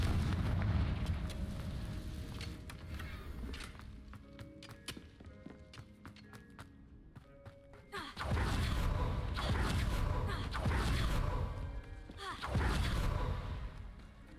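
Confringo explosive spell cast in the game Hogwarts Legacy: two heavy booming blasts at about eight and twelve seconds stand out over a busy backdrop of game music and effects.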